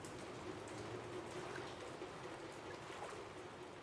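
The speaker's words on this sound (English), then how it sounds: "As rain pours down, the streets slowly begin to fill with water" Rain falls steadily on Bangkok streets, a faint, even hiss of drops spattering on surfaces with a low background rumble and no voices.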